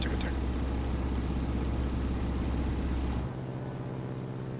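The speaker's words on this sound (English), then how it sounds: "You can actually hear the engine sounds." Boeing IB74A Super Stearman biplane engine droning in a flight simulator, a loud steady low rumble that drops to a quieter, smoother hum near the end.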